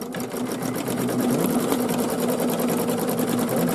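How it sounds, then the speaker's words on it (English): An embroidery sewing machine stitches a quilt block design in a hoop, a loud, steady close whirring hum with fast even needle pulsing throughout, no talk. "So we've started sewing the stitching."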